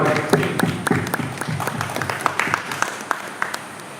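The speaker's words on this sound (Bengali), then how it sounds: "একটু হাততালি হোক সবার" Audience at a poetry reading and book-launch gathering clapping together, a dense stretch of many hands applauding at close range that fades slightly toward the end.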